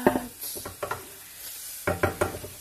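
Cassava sticks and vegetables simmering in a pan, with soft bubbling and scraping stirs that come in a few bursts over quiet gaps, close and moderately loud.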